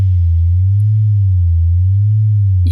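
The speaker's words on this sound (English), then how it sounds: "you can hear it oscillate." A synthesizer oscillator holds a steady low sine-like tone while vibrato slowly sweeps its pitch up and down in a regular wobble, loud and alone with no voices.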